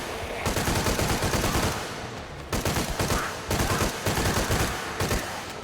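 Rapid video-game gunfire from Shadow of the Tomb Raider, loud bursts of automatic shots in repeated clusters with short pauses between volleys.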